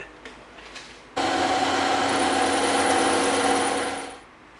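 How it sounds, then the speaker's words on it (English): A bandsaw slices through EVA foam in one sustained three-second cut, a loud steady whine with a raspy texture, then the blade spins down and quiets. "we're going to make those two cuts on the bandsaw because we want a 90-degree cut"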